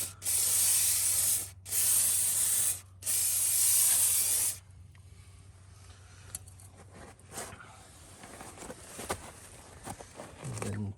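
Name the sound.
spraying degreaser on brake parts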